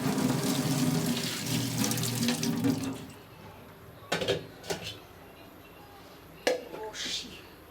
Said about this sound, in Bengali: চালনিটা একটু ধুয়ে নিই